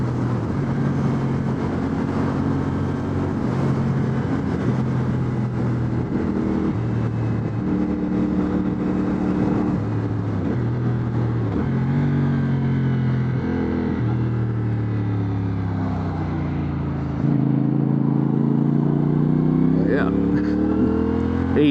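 A 2025 CFMoto CLC 450 motorcycle engine while riding: a steady, close droning note that rises and falls in pitch with throttle and gear changes, under continuous wind rush.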